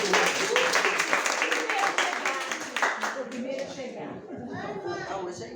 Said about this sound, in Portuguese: Uma salva de palmas para Jacimar.